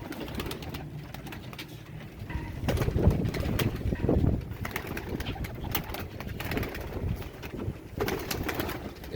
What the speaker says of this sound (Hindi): ये सब चौधरी वाले कबूतर हैं